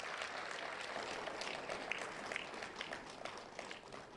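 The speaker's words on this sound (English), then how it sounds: "he deserves another round of applause, a big hand" Applause at the President's 2023 end-of-year press conference, a steady, moderately distant wash of clapping that holds evenly throughout without breaks.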